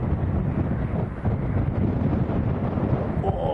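Strong wind buffets the microphone at Leeds Bradford Airport, a dense, steady low roar that fills the scene, loud and close with no talk.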